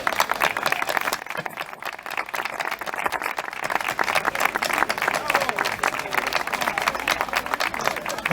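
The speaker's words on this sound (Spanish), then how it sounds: "todos y todas le demos un gran aplauso a mis compañeros" A crowd at a pensioners' rally in Linares, Jaén, claps steadily. The applause is a dense, sustained patter with voices talking over it.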